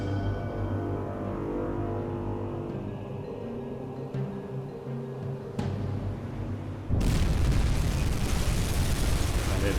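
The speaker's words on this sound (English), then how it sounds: "one torpedo, more than enough to take care of that little flower class" A torpedo strikes a small Flower-class corvette in a World War II U-boat game: low rumbling engine drone and music, then a sudden loud explosive burst that swells into a sustained roaring blast.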